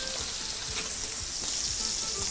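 New York steak searing in a hot pan, giving a steady close crackle and sizzle with quick popping spatters and no voices.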